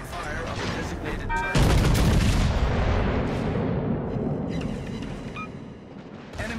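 Heavy artillery fire pounds a designated target in a video game, a sustained roar of booming blasts and rumbling explosions that swells loudly after a brief lead-in and rolls on continuously, with game noise and a faint voice underneath.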